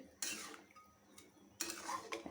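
Country chicken pieces being stirred in a pot for korma, with two bursts of metal spoon scraping and clatter against the pot separated by a quieter gap, fairly faint and close, without any talk.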